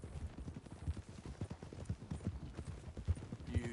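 Horse hooves clip-clop in Red Dead Redemption 2, a steady walking rhythm of soft, fairly quiet thuds on the ground, with no talking over them.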